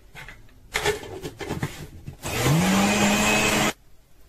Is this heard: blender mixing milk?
yes